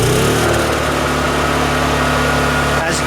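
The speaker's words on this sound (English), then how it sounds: "the generator is able to start up again" A Honda EU2 portable generator engine runs loud and steady, a dense continuous drone close by with a brief rattling disturbance near the end.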